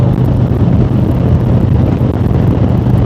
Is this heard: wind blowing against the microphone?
yes